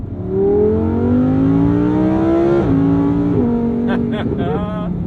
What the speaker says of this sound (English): And we hear from that glorious V10 soundtrack.